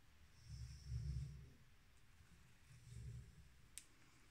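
A dog snores quietly nearby in a room, two low rasping breaths about two seconds apart, with a faint click near the end.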